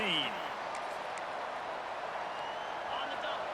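Stadium crowd in EA Sports College Football 26, a Vanderbilt game against Alabama in Tuscaloosa, roars in a steady, dense wash of cheering that holds for the full few seconds, with a commentator's voice riding over it.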